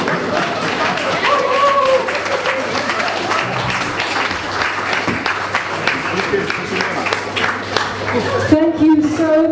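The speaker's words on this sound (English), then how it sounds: "Can I have another big round of applause for our choir?" An audience at a reunion event claps for a choir, steady applause running throughout under a speaking voice, with a musical tone entering near the end.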